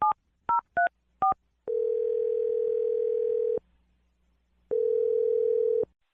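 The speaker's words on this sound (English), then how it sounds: "We're going to dial the phone number right now for you." A phone call being dialed: a quick series of four short touch-tone beeps, then a long steady ringback tone, a pause of silence, and a second long tone, clear and close.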